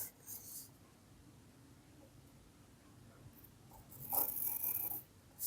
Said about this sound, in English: Place it on B and draw an arc.